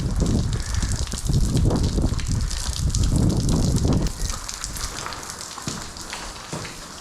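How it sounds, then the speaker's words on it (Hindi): Heavy monsoon rain pours down in a dense, loud, continuous hiss on a trek to Rajmachi Fort, with gusty buffeting that eases slightly partway through. "बारिश ने तेजी पकड़ लिया फिर से।"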